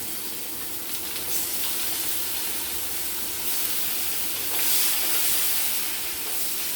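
Cumin seeds and chopped onion sizzle steadily in hot oil, a loud continuous frying hiss with brief swells of crackle, close by and without voices.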